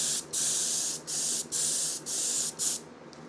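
Airbrush or spray can misting paint onto an Avro Arrow scale model, five steady hissing bursts separated by brief pauses, close and clear with no talking.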